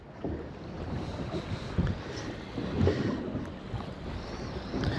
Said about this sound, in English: Wind's up over 30 k's from the south now